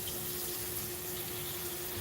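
Water rinsing insect-infested plants, a steady hissing wash of spray or running water that holds at an even, moderate level throughout with no voices.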